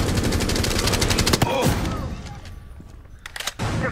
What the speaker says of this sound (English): Oh, I'm trying to shoot.